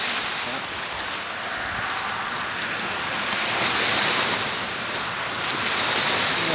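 Waves wash onto the shore at Munising at daybreak, a broad hissing surge that swells and recedes in slow rolls, with some wind buffeting the microphone.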